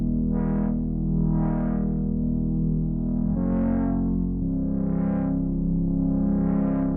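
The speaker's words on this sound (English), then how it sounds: "now you have a crossfade that you can use to blend between two different sounds" A sustained synth tone with drive distortion crossfades back and forth between two timbres, with sweeping brightness swells and a couple of abrupt pitch changes, no voices.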